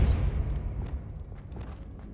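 A Depulso force spell is cast in Hogwarts Legacy, giving a low, heavy whoomp at the start that fades into a softer rumbling tail, with faint scattered clicks and no speech.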